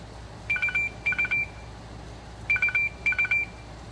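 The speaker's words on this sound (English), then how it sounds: "Phone's ringing." A phone rings with an electronic ringtone: two pairs of quick, bright beeping bursts separated by a short gap, moderately loud over a faint hum.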